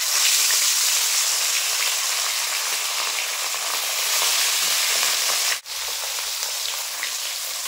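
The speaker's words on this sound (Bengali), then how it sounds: "তেল খুব ভালোভাবে গরম হয়ে গেছে। এখন মাছগুলো দিয়ে দেবো।" Turmeric and salt coated bhola fish frying in well-heated oil, a loud, dense, continuous hiss like heavy rain that briefly cuts out near the end before resuming just as strong.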